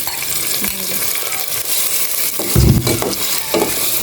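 Sliced pork sizzles and fries steadily in a pan, with a louder burst of sizzling and stirring midway and brief clatter of a utensil.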